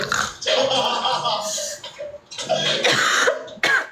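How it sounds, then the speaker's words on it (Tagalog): Several harsh, raspy coughs in quick bursts, close up, separated by short pauses, with a final sharp cough at the end. "Sinasadya mo naman yung ubo mo na yan eh!"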